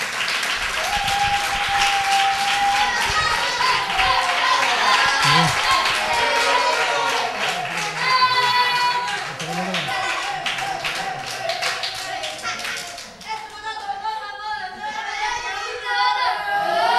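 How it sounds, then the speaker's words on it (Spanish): Applause and clapping from an audience at a youth football club's end-of-season closing ceremony. The clapping runs steadily for most of the stretch, with voices and a tonal sound mixed in, and a raised voice joins near the end. "Un aplauso para ellos."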